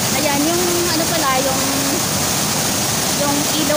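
A waterfall and its river pour steadily in the Philippines, a loud, constant roar of rushing water close by, with a person talking over it throughout.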